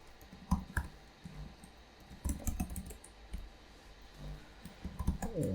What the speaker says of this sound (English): I click the create item button. And I add one more score.